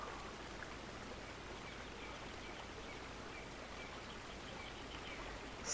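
Quiet, steady rushing of a river in Canada, a soft continuous wash with no other sounds.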